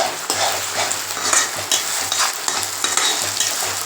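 Steady sizzling and frying of onions and tomatoes in a hot pan, with stirring scrapes throughout and no voices.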